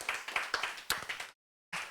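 A lecture audience clapping, a short burst of uneven close hand claps that stops abruptly into silence, then a brief resumption of noise.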